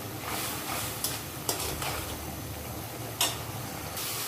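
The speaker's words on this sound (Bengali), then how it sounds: "মশলাটা আমি ভালো করে কষিয়ে নিব।" Spice paste with chopped tomato sizzles and is stirred in a pan for a magur fish and green banana curry, a steady faint frying hiss broken by a few soft clinks of the spoon against the pan.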